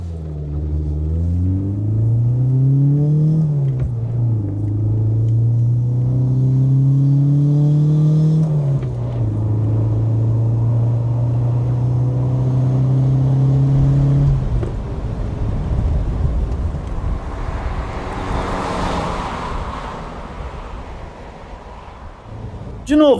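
An MG Maestro 1600 hatchback accelerates, its engine rising in pitch, dropping at each gear change, then climbing again before fading, heard from inside the car under a man's ongoing speech.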